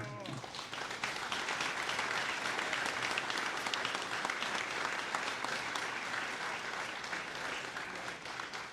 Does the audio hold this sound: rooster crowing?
no